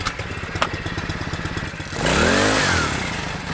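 A small outboard motor on a micro skiff, fitted with a new carburetor, starts up and runs loud and close, its pitch rising and falling as it revs, after a short stretch of lower rattling.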